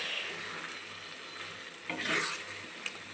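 Masoor lentils sizzle in a hot pan as they are stirred, a steady frying hiss that swells briefly midway with scraping stir strokes, close and without talk.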